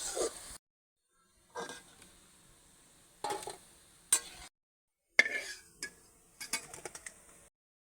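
Fried cabbage koftas being lifted out of a frying pan, giving several separate clinks and scrapes of a utensil against the pan with short silent gaps between them, fairly close and with no talking.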